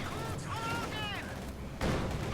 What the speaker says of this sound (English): KV-8 is being shot at by the pack.